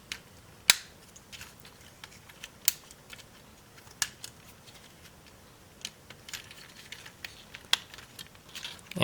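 Parts of a plastic Transformers Studio Series 38 Optimus Prime figure click and snap into place, a scattered run of sharp, quiet clicks with gaps between them and no talking.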